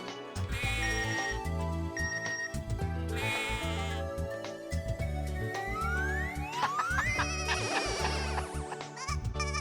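Mobile phone alert tones chiming over a bleating, looping ringtone-like jingle, with a rising synthetic sweep near the end; loud and continuous, no talk.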